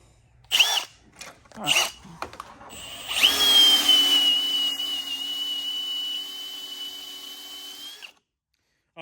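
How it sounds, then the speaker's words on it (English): Power drill spinning a 5/8 reamer for a 1999-2018 Chevy Silverado upper control arm bushing job: two short whirring bursts, then a sustained high whine lasting several seconds before stopping, close up, with a brief spoken word. "this is a 5/8 reamer"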